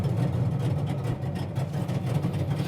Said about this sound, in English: Might have a little bit of exhaust leak we got to look at.